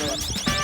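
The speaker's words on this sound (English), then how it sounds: "And it's still beeping, it's still beeping." A brief, steady electronic alarm tone from a retail security tag sounds, high-pitched and insistent, with faint background noise underneath.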